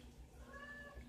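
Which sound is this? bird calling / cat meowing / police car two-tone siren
cat meowing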